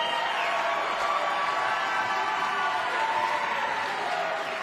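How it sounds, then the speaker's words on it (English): Steady applause and crowd noise from an audience at a boxing fight night, a continuous wash of clapping with no break for the full stretch. "Ladies and gentlemen, a round of applause for the brave and gallant Sahai Kasenzov."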